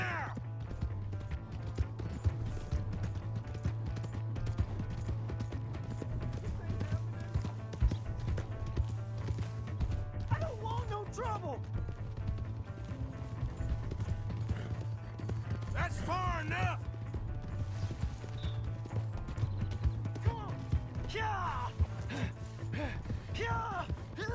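A horse gallops in Red Dead Redemption 2, steady rhythmic hoof clip-clop with creaking tack throughout, while voices talk over it and game music plays underneath.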